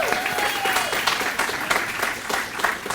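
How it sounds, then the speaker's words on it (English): An audience at a high school town hall forum claps steadily and fairly loudly for the school staff, a continuous dense patter of many hands with a faint tone at the start. "Yes, round of applause for them,"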